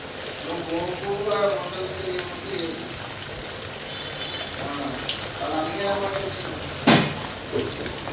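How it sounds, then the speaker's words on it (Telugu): Chicken pakodi deep frying in oil gives a continuous, rain-like hiss and crackle, close and steady, with a voice talking over it and a brief sharp clatter near the end. "ఆయిల్లో డీప్ ఫ్రై చేయడానికి ఒక్కొక్కటి పకోడీ ఎలా వేసుకుంటామో అలా వేసుకోవాలి"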